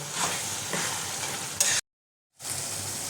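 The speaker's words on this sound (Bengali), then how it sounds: "এটা ভালো করে আবার একটুখানি কষিয়ে নেব।" Chicken mince with a little sugar sautés in a pan, giving a steady close frying sizzle that cuts out abruptly into a short silence before resuming.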